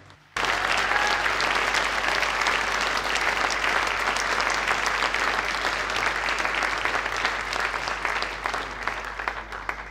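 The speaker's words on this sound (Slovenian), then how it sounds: "En aplavz za orkester Harmonik." A hall audience at a 60th-anniversary cultural centre celebration in Zagorje ob Savi gives an accordion orchestra a loud, sustained round of applause that starts abruptly after a brief silence and stays dense throughout.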